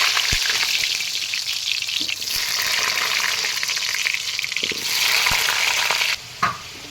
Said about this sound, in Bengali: তেল গরম হয়ে গেছে, দিয়ে দিলাম আলু।